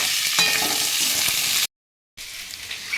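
Beans and carrots fry in a pan with a loud, dense sizzle and some stirring, cut by a short silent gap before the frying hiss resumes.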